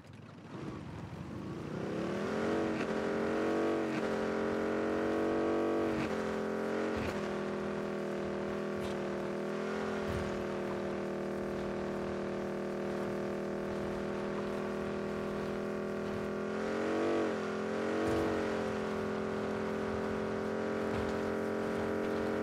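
A motorcycle engine in a video game drones steadily at high speed, its pitch rising and dipping with gear changes and throttle shifts, continuous and fairly loud with no talk.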